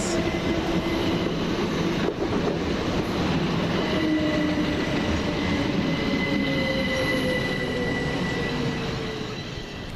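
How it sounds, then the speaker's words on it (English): A Southern Railway electric train moves through East Croydon station, a steady rolling rumble with thin wheel squeals and whining tones sliding across, loud and close, fading slightly at the end with no voices. "That'll be the 1608 Southern Railway service to Tattenham Corner"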